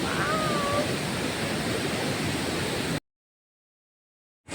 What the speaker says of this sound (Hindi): नीचे वाटरफॉल